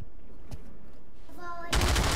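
Automatic gunfire in the Pavlov VR shooter on PlayStation VR 2, a loud rapid burst erupting at the end after a quieter stretch with a short tonal squeal just before it.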